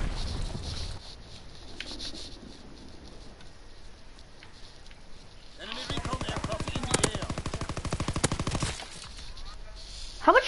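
Gunfire in a WWII video game: scattered sharp shots early on, then a loud, rapid automatic burst of machine-gun fire for about three seconds, followed by a final close crack.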